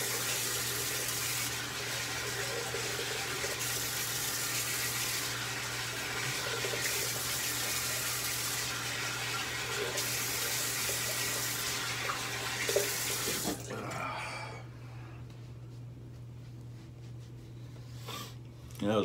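Tap water runs steadily at moderate level for about thirteen seconds during rinsing, then shuts off, leaving quieter room noise with a low steady hum underneath throughout.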